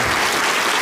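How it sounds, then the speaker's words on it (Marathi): A crowd of parents and students claps loudly to welcome a teacher at a college career-counselling session, in a brief, dense burst of applause. "संजय नगरकर सर यांचे देखील आपण टाळ्या वाजवून स्वागत"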